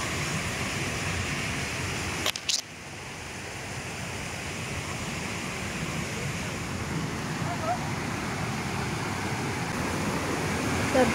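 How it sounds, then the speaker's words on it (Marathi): Water gushing strongly over a weir, a dense steady roar close by that swells slightly louder toward the end, with a brief knock near the start. "मस्त धोधो पाणी व्हावता"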